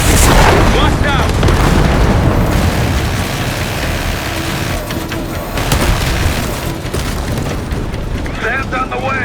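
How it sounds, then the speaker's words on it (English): Missiles fire and explode in the Call of Duty: Black Ops 6 campaign: dense, loud booms and rumbling blasts rolling continuously, with game voices speaking over the barrage. "Firing missiles."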